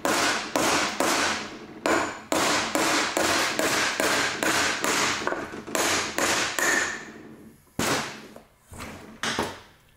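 Wheel bushings are hammered out by hand without a press, with a loud, rapid series of sharp metallic strikes in close succession, then a brief pause and a few more spaced blows.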